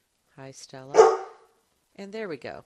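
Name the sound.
dog barking in the background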